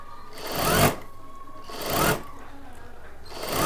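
A sewing machine stitches a simple blouse in three short runs, each a brief burst of whirring that stops before starting again, heard close and fairly loud with quiet pauses between.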